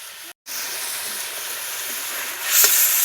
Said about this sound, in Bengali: মশলাটাকে ভালো করে একটু কষিয়ে নেবো।